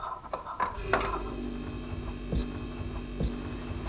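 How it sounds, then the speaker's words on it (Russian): Household refrigerator compressor fitted with a new start relay, starting up and running as a steady low mains-frequency hum, with a couple of faint clicks or thunks over the drone. "Все, холодильник исправно заработал."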